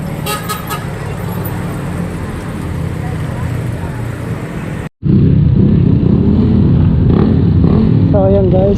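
Motorcycle engines idle and warm up before a group ride to San Andres, Quezon, running loud and close, with a horn toot near the start, a brief cut midway, and people talking over the engine noise.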